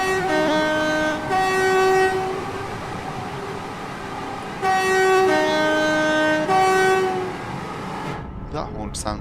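Class 350 electric multiple unit horn in Train Sim World 5 on the Milton Keynes to Euston line, sounding several loud sustained two-tone blasts over steady rolling rail noise.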